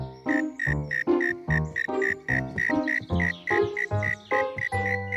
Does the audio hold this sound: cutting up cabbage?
no